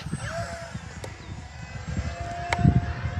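An FMS P-51 Voodoo V2 RC model warbird, 1.1 m span on a 6S battery, whines overhead with rising and falling pitch as it makes passes, with a couple of sharp high-speed sweeps and faint background chatter.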